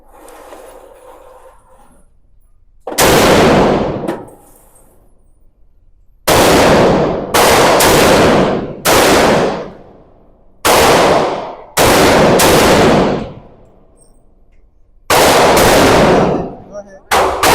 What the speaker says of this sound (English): We're here at the range today. I'm gonna take the first shot.